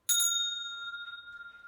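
A teacher's handheld classroom bell gives a single bright ding, struck near and loud, then rings on with a long clear fading tone.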